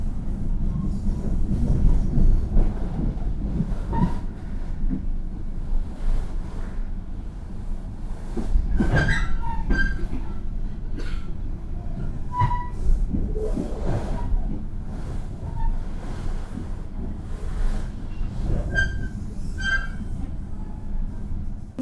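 A long passenger train rolls into Cirebon Station in Indonesia, with a deep rumbling rhythm of wheels over rail joints, scattered squeals and metallic clanks, and the low drone slowly easing as it arrives.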